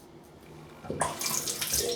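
Cold water gushes from a bathroom tap during a shave, starting abruptly partway through and running steadily and fairly loud to the end, with no talking.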